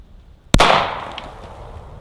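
A single sharp 9mm or 10mm handgun shot cracks close by outdoors in the woods, followed by a short fading echo and quiet.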